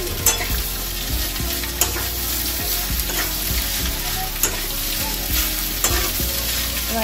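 Boiled pasta fries in a pan seasoned with pepper, a constant loud sizzle under repeated rhythmic scrapes and taps of a spatula stirring it.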